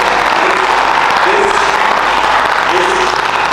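Audience clapping at an operations and strategy conclave panel, a steady, dense round of applause filling the hall throughout, with a voice faintly present underneath.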